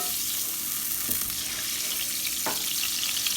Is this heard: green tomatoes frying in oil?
yes